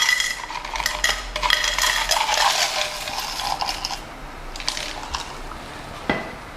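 Ice cubes for a Tang orange juice iced coffee drink clink and rattle into a glass, a close burst of hard knocks and tinkles over the first few seconds, then a few sparse clicks and a final sharper clack.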